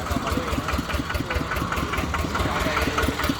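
A Yanmar RT120 small diesel engine runs steadily at a dealer's shop, a continuous close mechanical chug with a dense rhythmic knock.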